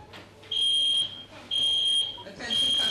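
A building fire alarm sounds in loud, steady electronic bursts, three pulses each about half a second long with short gaps between them, over a low background hum.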